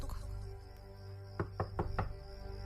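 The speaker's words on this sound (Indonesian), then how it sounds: "terdengar suara pintu yang diketuk." Four quick knocks on a door, in a steady run, faint and somewhat distant over a constant low household hum.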